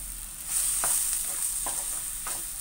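Jackfruit halwa with sugar stirred in a pan, a soft steady sizzle with a few scraping strokes of the spoon, close and continuous, with no voices.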